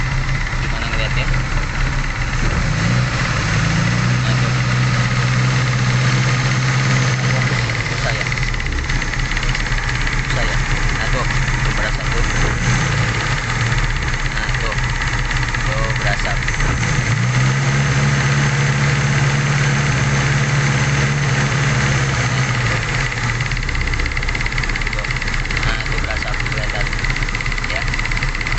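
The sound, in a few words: Suzuki Carry engine idling roughly, misfiring from compression loss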